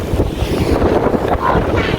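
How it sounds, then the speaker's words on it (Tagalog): Strong wind buffets the microphone in a steady, loud roar, with rumbling gusts and a wash of high-tide surf beneath it at East Beach, Shoeburyness, Essex, and no voices. "So medyo malakas yung hangin"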